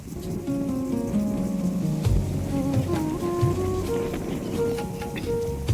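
Children bathe under a spraying water shower, a steady loud hiss of falling water filling the whole stretch, with faint tonal voices running through it.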